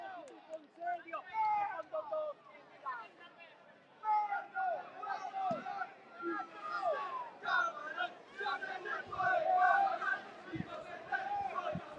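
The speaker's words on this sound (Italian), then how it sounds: "Cercano di farsi sentire i tifosi del Camerad, arrivati qui con il pullman organizzato dalla società" Fans of Kamarat, who arrived by organized bus for a Sicilian Promozione play-off football match, chant and shout from the stands in rhythmic, distant bursts, with a commentator talking over them.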